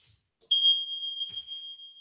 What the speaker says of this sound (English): You're gonna hear another beep.